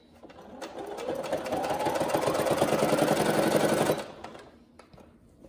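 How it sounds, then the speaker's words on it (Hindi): Sewing machine running a zigzag stitch along the hem of leggings, a fast, close mechanical whirr that rises and holds for about three seconds before stopping, followed by quiet handling. "तो फिर आप इस पे जिगजैग स्टिच कीजिए। जिगजैग स्टिच से सिलाई सही आती है"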